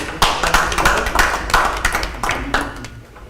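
Audience applause at a Hillsboro city commission meeting honoring the city auditor, a burst of clapping lasting about three seconds, fairly close and steady before tapering off.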